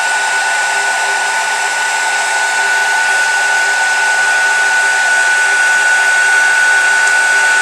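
A heat tool blows steadily as it heats embossing powder, a loud constant whirring hiss with a fixed tone, unbroken from start to finish with no talk.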